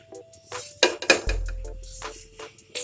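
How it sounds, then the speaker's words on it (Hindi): Two spoonfuls of ghee go into a hot kadhai: a metal spoon clinks and scrapes against the pan in several sharp, close taps, with a brief low soft rush in between. "तो अब इसमें हमारी कढ़ाई गर्म हो चुकी है। अब इसमें हम डालेंगे 2 चम्मच घी।"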